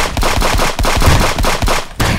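Rapid automatic gunfire from a Friends vs Friends shooter game, loud and continuous in tight bursts with a brief gap near the end, no talking.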